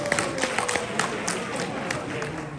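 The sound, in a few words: audience round of applause at Star Wars Celebration panel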